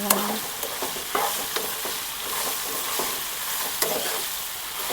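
Okra frying in hot oil in a pan, a steady loud sizzle with occasional scraping of a spoon or spatula as the pieces are stirred, no voices.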